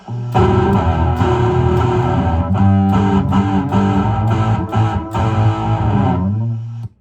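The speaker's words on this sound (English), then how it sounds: "you can see the distorted sound actually occurring" A smart electric guitar played through a distortion effect turned to its maximum setting, loud buzzing crunchy chords strummed in several bursts and held, ringing out and fading at the end, with no voices.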